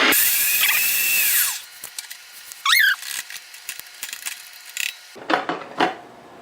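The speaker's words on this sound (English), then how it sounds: "This mixer's been doing a good job." An electric mixer whirs loudly and steadily while cheesecake is made from scratch, then cuts off after about a second and a half, leaving scattered squeaks, clicks and light clatter nearby.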